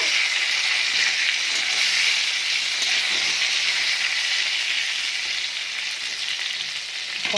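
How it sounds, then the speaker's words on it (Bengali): Pointed gourd pieces fry in hot oil with salt and turmeric, a steady, loud, broad sizzle that holds evenly throughout with no voices. "নেড়ে দিয়ে দেবো নুন আর হলুদ, দিয়ে ভালোভাবে ভেজে তুলে নেব।"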